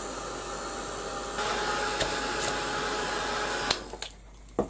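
A dryer gives a steady, loud, close whooshing blast while drying a junk journal page, holding constant for several seconds before cutting off amid a few light clicks.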